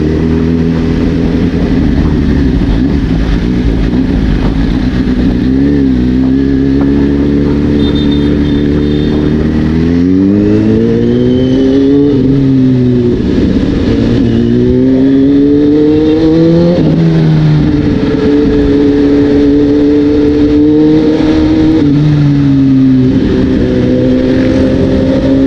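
A Kawasaki Z H2 motorcycle accelerating hard, its loud engine note rising and falling through repeated gear changes, close up and continuous with steady wind rush, no talking.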